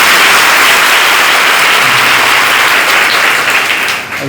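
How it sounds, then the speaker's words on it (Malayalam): A large audience at a gathering claps loudly and continuously, a dense wash of applause that thins slightly toward the end. "എന്നാൽ ഒന്നുകൂടെ കുറച്ച് കൈയടിക്കുക."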